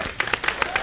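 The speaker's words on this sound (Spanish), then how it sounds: "La recibimos con un aplauso." A brief round of studio audience applause on a television talk show, with a few distinct claps in a quick, even rhythm, close and fairly loud.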